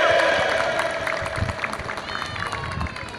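A crowd at a gathering of Indonesian drivers in Tangerang, Banten applauds the organizing committee, dense clapping with some cheering, loud at first and slowly easing off.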